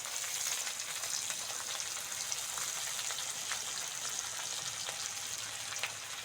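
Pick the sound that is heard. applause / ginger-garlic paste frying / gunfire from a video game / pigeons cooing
ginger-garlic paste frying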